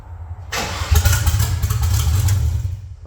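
A car engine cranks and catches after a brief quiet moment, then runs with a rough, loud, close-up rumble for a few seconds, with no one speaking.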